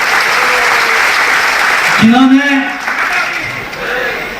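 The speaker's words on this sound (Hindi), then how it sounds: "इन तीनों के लिए एक बार तालियां बजाइए" A crowd claps steadily for the chief minister, deputy chief minister and a local legislator at a public gathering in Maharashtra, a broad wash of applause that continues under a brief spoken word.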